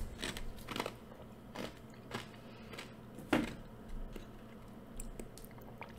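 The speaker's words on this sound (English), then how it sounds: "I recognize now that I'm chewing on ice," Someone chewing on ice, with crisp irregular crunches and bites close to the mic and one sharper crack in the middle, over a quiet background with no speech.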